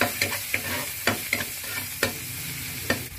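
Garlic sizzles in a hot pan for chicken in coconut milk, with a spatula scraping and clacking against the pan in irregular strokes over a constant close frying hiss.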